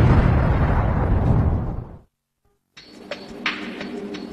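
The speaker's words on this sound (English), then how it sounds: "Our experts will recreate the explosion that changed the world." A replica of the largest cannon of 1453 fires with a massive close boom. The roar fades over about two seconds into a moment of silence, followed by a quieter rumbling aftermath with scattered pops.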